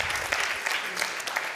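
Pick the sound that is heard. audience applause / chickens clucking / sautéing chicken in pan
audience applause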